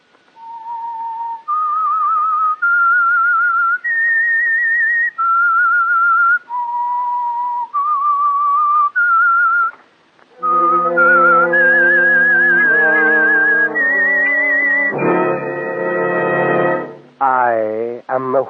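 A clear, loud whistled melody signaling a radio program, held notes stepping up and down, swelling later into fuller sustained tones like a chorus of whistles or organ.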